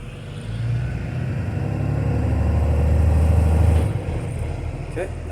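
A school bus engine in drive with the parking brake on revs into a loud, sustained low rumble, then drops back toward idle near the end, heard up close.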